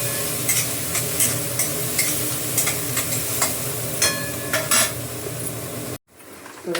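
Half a tomato goes into onions frying in a pan for matar paneer masala, making a continuous close sizzle with spatula scrapes and clinks against the pan before the sound cuts off near the end.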